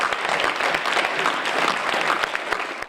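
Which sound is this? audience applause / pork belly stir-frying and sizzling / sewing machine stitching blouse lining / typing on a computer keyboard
audience applause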